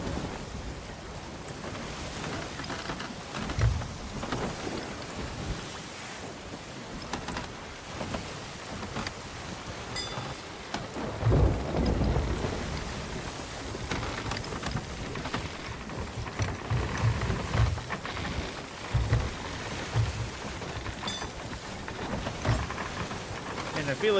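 Rough sea under sail in a storm, with a continuous wash of rain, wind and breaking waves around the boat, swelling in louder surges, with a person speaking now and then.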